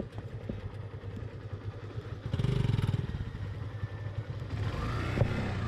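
A motorcycle engine strains and revs in surging bursts as the bike struggles in thick mud with its wheels failing to grip, close and fairly loud, with scraping and clatter between the revs.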